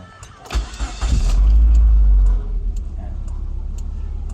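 A 2001 Ford Lynx Ghia with erratic dashboard gauges cranks briefly, catches with a loud surging roar, then settles into a steady nearby idle.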